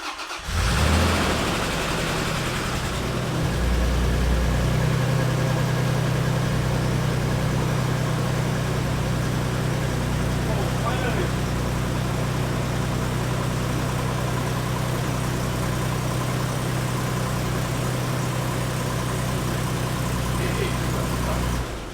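A truck engine cranks and catches, then settles into a steady, loud idle close by, with a low rumbling drone holding for about twenty seconds and no talk over it.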